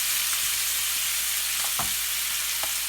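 Butter and minced garlic frying in a cast iron pan, a continuous close hiss with a few soft knocks of a utensil against the pan, no voices.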